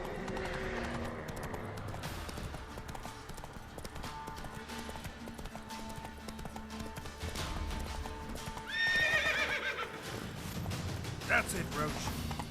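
Roach, a horse in The Witcher 3 game, gallops with steady clip-clop hoofbeats throughout, then lets out a loud whinny near the end over continuous game music and ambience.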